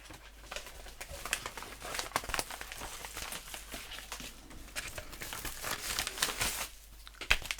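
Old paper envelopes are handled and rummaged through, giving a continuous close crinkling and rustling with scattered sharper crackles and taps, no talking.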